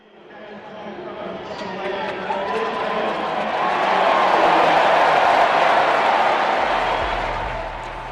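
A big stadium crowd at a UCLA football game against Maryland swells into a broad roar of cheers and chatter, building to a peak and then easing off, with a voice talking beneath it.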